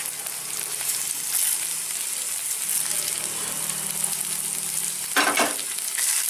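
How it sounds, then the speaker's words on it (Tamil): Onions sautéing in a pan make a steady, close hiss and crackle of frying, with a brief louder stir-like burst near the end and no speech. "வெங்காயம். இதை நல்லா வதங்கட்டும்."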